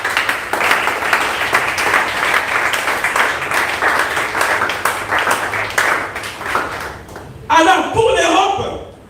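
A church congregation bursts into sustained applause, dense clapping from a large crowd filling the hall, with a sharper burst of nearby claps near the end.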